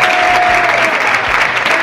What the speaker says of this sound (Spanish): darle un fuerte aplauso a nuestro amigo.